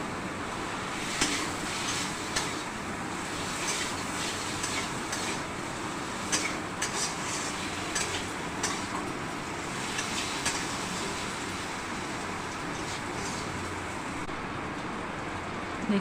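Katla fish frying in hot oil in a pan gives a steady close sizzle while a utensil stirs it, sending a scattering of light scraping clicks against the pan.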